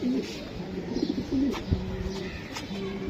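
Soft cooing of a black racing pigeon, a hen, repeats in short low pulses close by, with a few faint chirps and light rustling and handling noise around it.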